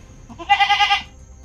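A goat gives a single short, wavering bleat, close and clear, in an otherwise quiet moment.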